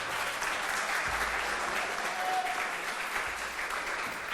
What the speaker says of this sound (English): So please, a warm welcome and a warm applause for Elliot.